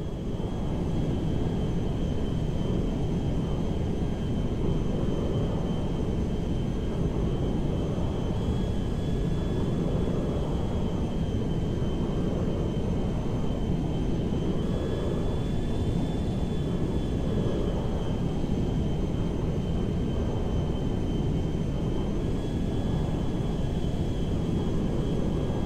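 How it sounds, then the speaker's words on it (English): A cargo jet rumbles through its landing in a steady, loud, unbroken roar with a faint high whine running through it, sustained throughout and with no speech. "We are now landing in Mackenzie Field"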